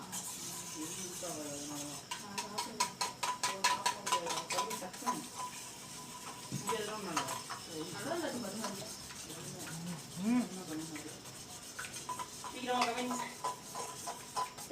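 Eggs being mixed in a bowl give quick rhythmic clicking and whisking beats in short bursts, close and moderately loud, with people talking over them at times.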